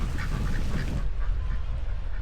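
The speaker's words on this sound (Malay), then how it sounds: "Itik ada sini." Duck quacking at a seaside spot during a holiday trip in Terengganu, a few close, loud nasal quacks in quick succession over steady wind noise.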